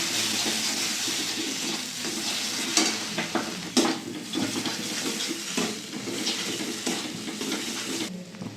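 Fried dry chili crushed by hand is stirred into ground ridge gourd paste in a hot pan, producing a continuous soft sizzle with scraping spoon strokes and occasional clacks against the pan, close and steady.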